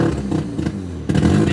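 A Mazda RX-7 engine idles roughly and low after a cold start, a loud, close, uneven rotary burble with slight fluctuations and no talk.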